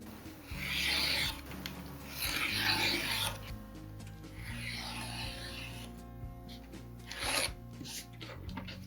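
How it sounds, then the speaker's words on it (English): A journal cover is trimmed down to size with repeated rasping, rubbing cutting strokes in several long passes, close and fairly quiet over a low hum. "if I trim that down to 6 inch by, let's say 9, 6 by 9"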